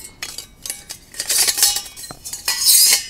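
Metal parts of an alcohol stove clink and scrape together as it is assembled inside a Lixada tower stove, a close series of light tinny knocks and rattles.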